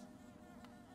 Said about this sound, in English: So many buzzy little bees.